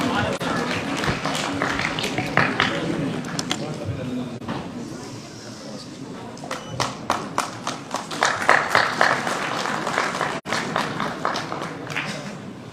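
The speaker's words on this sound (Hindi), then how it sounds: "और तालियां इसी के साथ जोरदार होनी चाहिए।" Audience clapping at an Uttar Pradesh homeopathy award ceremony, a steady wash of applause with sharper individual claps standing out, fairly loud and continuous, with a voice briefly audible underneath.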